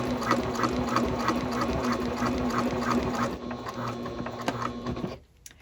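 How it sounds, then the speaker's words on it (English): A sewing machine stitches a diagonal seam on a tote bag, giving a continuous close mechanical whir with fine rapid needle ticking that runs for about five seconds and then cuts off. "I'm going to sew diagonally towards this corner"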